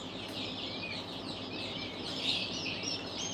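Chickens cluck and chirp faintly in a coop among newly hatching chicks, high calls repeating over a soft steady background hiss.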